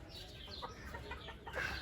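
Ispenç chickens cluck in a short, busy burst of overlapping calls, close by in a farmyard setting, with a sharper call rising near the end.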